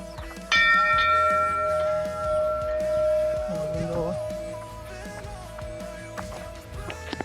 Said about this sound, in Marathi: आता जे घंटी वाजवता ना